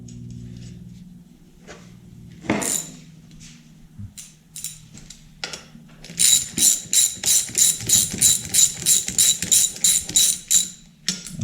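A hand ratchet tightens a flywheel nut during a Clinton small engine rebuild: a few scattered clicks and knocks, then a close, loud run of rapid rhythmic ratcheting clicks lasting about five seconds, with no talking.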